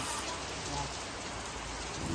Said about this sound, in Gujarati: વરસાદ આવી ગયો જોરદાર